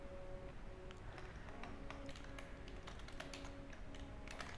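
Soft, quick taps of a computer keyboard while writing React code for a Spring Boot REST API frontend, irregular bursts of keystrokes, faint and close, over a low steady hum.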